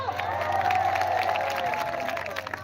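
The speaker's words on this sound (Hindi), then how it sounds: "जोरदार ताली बजा दे" A live studio audience claps and cheers loudly and steadily, a dense crowd roar with a low background hum, fading slightly toward the end.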